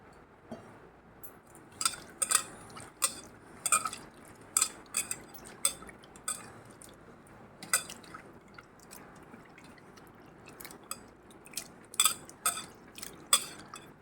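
Tamarind is squeezed and dissolved in water by hand, giving a series of wet squelches, drips and small splashes in irregular bursts, close and fairly quiet.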